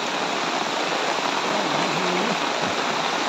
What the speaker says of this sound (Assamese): কালিৰ পৰা দি আছে নেৰানেপেৰা বৰষুণ